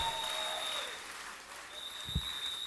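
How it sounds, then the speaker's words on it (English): A church congregation gives a clap offering during a service, a steady wash of applause lasting a few seconds with a brief thump near the end and faint voices underneath. "Can you give the Lord a better clap offering?"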